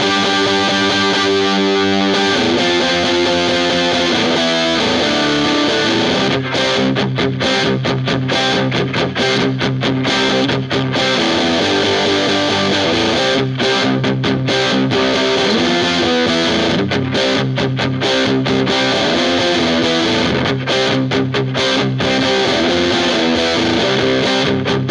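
Electric guitar on the bridge pickup played through a TC Electronic Grand Magus distortion pedal, a loud, heavily saturated tone with chugging riffs and sustained chords and brief palm-muted stops, running alone without talk.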